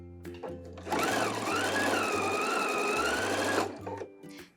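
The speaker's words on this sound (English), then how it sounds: "So let's go sew those side seams." A sewing machine runs a straight stitch along the side seams of a summer wrap dress, a steady close whirring hum of about two and a half seconds, framed by brief starts and stops.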